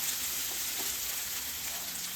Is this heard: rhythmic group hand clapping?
no